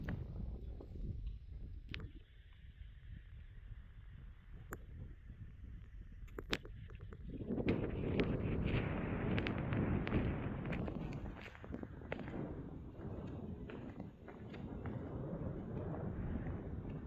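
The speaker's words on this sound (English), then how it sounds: "quite a windy day as well." Gusty wind buffets the microphone in low rumbling waves on a high canyon viewpoint near Moab, quieter at first and then rising into a stronger, sustained roar.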